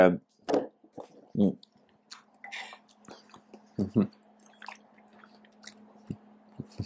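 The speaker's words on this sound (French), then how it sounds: "je devrais mettre une pause à chaque fois que je prends une bouchée" Someone chewing a bite of food close up, with wet, clicky mouth sounds in irregular bursts and quiet pauses between them.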